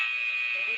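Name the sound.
workout timer buzzer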